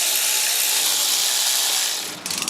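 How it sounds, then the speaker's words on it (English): A ratchet or power tool tightens thermostat housing bolts on a BMW N47 diesel engine, a loud continuous buzzing rattle that ends in a few quick clicking pulses. "once all 3 bolts are in, you tighten them down"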